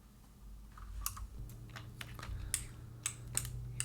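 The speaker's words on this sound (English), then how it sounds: "Hear that lovely clicking" Micro switches inside an Amiga-era Python joystick click sharply, a handful of irregular snaps spread over a few seconds above a low steady hum.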